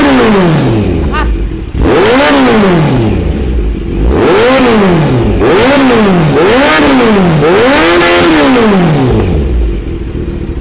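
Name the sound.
motorcycle revving through an aftermarket exhaust pipe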